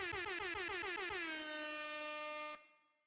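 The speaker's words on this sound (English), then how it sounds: "gotta hit the air horns" A loud air horn blares in a rapid series of short blasts, then holds one long sustained tone before cutting off abruptly.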